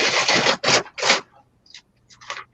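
A brown paper bag being scrunched by hand for a craft, heard as several close, sharp bursts of crinkling and crumpling with short pauses between them.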